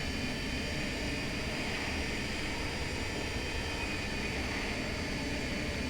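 Steady, loud jet engine roar of an MD80 airliner in the Rotate MD80 flight simulator, a continuous broadband whoosh with no breaks and no voices.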